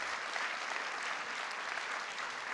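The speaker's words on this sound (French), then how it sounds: "Merci de les applaudir." An audience at the closing speech of the 2017 "Les Idées mènent le Monde" event applauds the ticketing staff; a steady, even wash of many hands clapping, fairly soft and distant.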